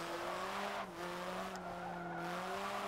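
A Hyundai car lapping a track in Forza 7, its engine holding a steady, close droning whine that dips slightly, while tires hiss and squeal continuously through a corner.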